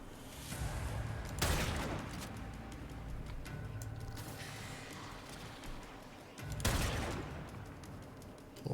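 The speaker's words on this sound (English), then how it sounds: "Why are you shooting at me?" Enemy gunfire in Warframe crackles in two loud bursts, one early and one near the end, over a busy low rumble of combat ambience, with scattered quieter shots between.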